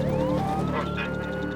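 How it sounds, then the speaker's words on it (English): Police sirens approaching, their wailing, sweeping tones heard briefly over steady low background noise. "Oh, I can hear sirens."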